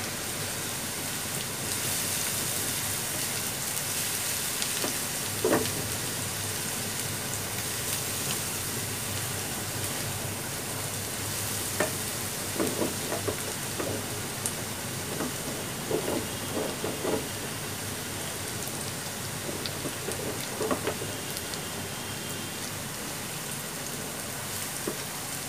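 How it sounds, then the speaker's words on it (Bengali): Onions frying in a pan for a banana flower stir-fry, giving a steady, fairly loud sizzling hiss with crackles and small pops throughout, with no voices. "এটা ভালো করে ফ্রাই করতে হবে পেঁয়াজগুলো"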